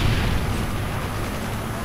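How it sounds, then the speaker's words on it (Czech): A grenade blast in Call of Duty Modern Warfare 3 multiplayer, a loud booming burst whose heavy, rumbling tail fills the whole moment at close range. "Granát."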